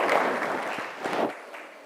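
Satsang gathering clapping to welcome guests, a dense burst of applause from a crowd in a hall that thins out and fades toward the end.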